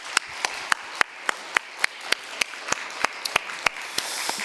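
A church congregation claps at a New Year's Eve service, a steady rhythm of sharp claps in a large room.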